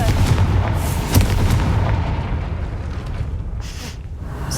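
A Confringo blasting spell explodes in Hogwarts Legacy, a loud, heavy boom with a sharp crack near the start, followed by a long rumbling roar that slowly fades.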